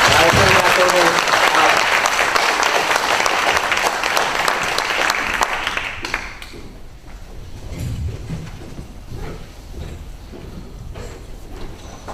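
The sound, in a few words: audience applause after president's report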